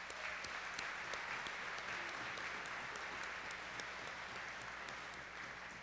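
An audience at the opening ceremonies of a tournament applauds the directors and volunteers, with sustained, dense clapping from a crowd that stays even throughout and fades only slightly at the close.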